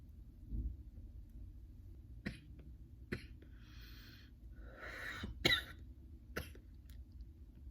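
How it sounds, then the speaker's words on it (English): Several short, sharp coughs scattered over a quiet room background during a smoking session, with some breathy throat clearing between them, fairly close and alone without talk. "It ain't a session if you don't cough."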